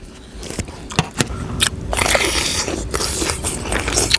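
Someone bites into candied Thai jujube (phutsa chae im), seedless and crisp, giving a couple of sharp crunchy bites followed by loud close chewing and crackling, with no talking.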